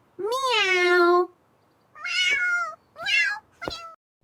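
A cat meows four times up close, one long drawn-out cry followed by three shorter meows with brief pauses between them.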